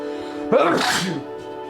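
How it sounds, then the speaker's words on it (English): A single sharp sneeze bursts out close by, a quick intake then a loud explosive burst trailing off over about a second. "I have to sneeze."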